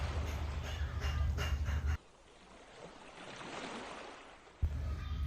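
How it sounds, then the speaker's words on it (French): Ocean waves wash and surge in a steady broadband roar, easing into a softer swell midway before the loud rush returns; no voices. "Oui, ce sont les vagues."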